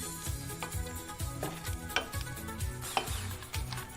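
Food sizzling in a frying pan, a steady crackle with repeated scraping and stirring against the pan, close up and with no talking.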